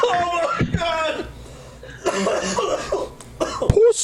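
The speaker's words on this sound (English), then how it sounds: "I didn't cough that bad." A few harsh coughs and throat-clearing sounds break out close by after a smoking hit, mixed with chuckling and brief talk.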